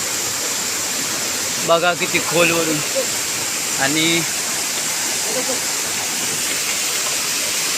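A waterfall rushes in hilly country at night, a steady broad roar of falling water that runs throughout, with people talking over it partway through.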